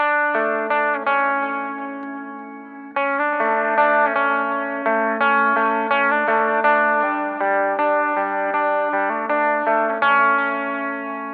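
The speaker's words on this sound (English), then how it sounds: "The Julia is going to give you a little bit of modulation sounding." Clean electric guitar through a Julia modulation pedal, arpeggiated notes and chords ringing with a gentle wavering shimmer, close and clear, played alone in a steady flowing rhythm.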